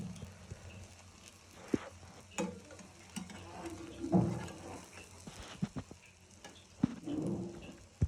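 Bread omelet with cheese sizzling in a pan, a steady low frying crackle with occasional scrapes and taps of a spatula.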